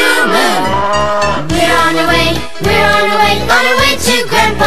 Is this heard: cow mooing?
yes